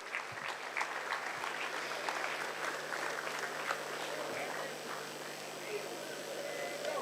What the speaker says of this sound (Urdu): زوردار تالیوں سے استقبال کیجئے